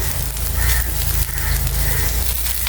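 Onion and garlic frying in oil with cumin in a pan, a steady close crackling sizzle with a low rumbling undertone and no talk.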